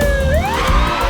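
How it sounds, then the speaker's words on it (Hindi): An ambulance siren wails behind a car on a road, its tone sliding up and down in a steady, fairly loud sweep with no talking over it. "शायद पीछे से एम्बुलेंस आ रही है"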